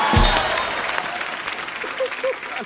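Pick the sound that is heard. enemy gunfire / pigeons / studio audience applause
studio audience applause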